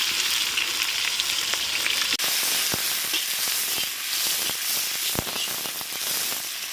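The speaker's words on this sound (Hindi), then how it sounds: "तो यहीं पे हम प्याज डाल देते हैं।" Sliced onions tip into hot oil already crackling with bay leaf and cumin for an aloo methi sabzi, giving a steady loud sizzle with scattered sharp pops and crackles throughout.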